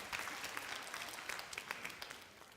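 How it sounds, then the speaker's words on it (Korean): Youth group congregation at a church service clapping, steady dense applause for about three seconds with scattered sharper claps, fairly close and moderately loud. "박수 한번 부탁합니다"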